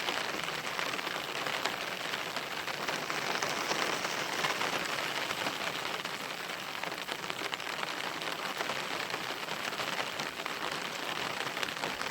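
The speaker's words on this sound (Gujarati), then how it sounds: "અત્યારે કોક કોક સાટા ચાલુ થઈ ગયા છે" Rain showers fall on a farm, a continuous, loud, even hiss of drops on surfaces that holds steady throughout with no voices.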